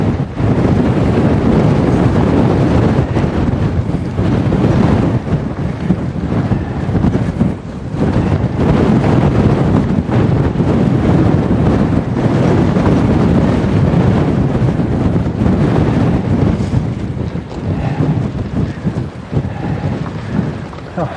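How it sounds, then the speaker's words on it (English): Strong wind gusting around 50 to 70 km/h buffets the microphone outdoors on a long gradual uphill, a loud, steady roar with surging gusts throughout. "it's just the wind. It's sustained at 50 kilometers an hour, gusting over 70."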